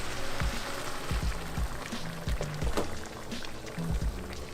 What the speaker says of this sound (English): now you just add a bunch of boiled water